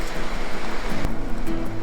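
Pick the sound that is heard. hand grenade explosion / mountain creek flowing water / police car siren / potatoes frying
mountain creek flowing water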